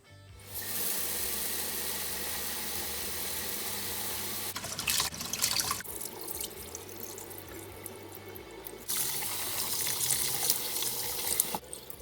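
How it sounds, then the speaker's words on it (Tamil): Raw pongal rice and mung beans for Sri Lankan rice porridge are rinsed together under a running kitchen tap, a close, steady gush of water broken by a few pauses and shifts as the grains are stirred. "இந்த பொங்கல் அரிசியையும் பயரையும் உண்டா கலந்து கழுவி எடுப்போம்."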